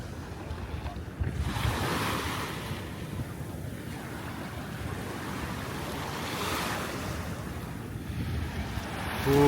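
Ocean surf on Nusa Dua beach in Bali, Indonesia, with waves surging and breaking in slow swells under gusty wind buffeting the microphone, fairly loud and continuous without speech.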